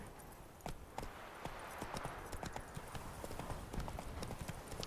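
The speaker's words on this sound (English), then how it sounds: "Run, Roach." Horse hooves in The Witcher 3 clip-clop in a steady galloping rhythm across the whole stretch, moderately loud with some faint background noise.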